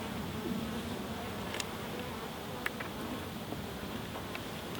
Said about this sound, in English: I don't want to